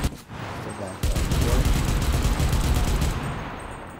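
Gunfire in the online shooter CRSED: F.O.A.D., a steady loud volley of rapid shots that runs for several seconds and swells after the first second, with players talking over it.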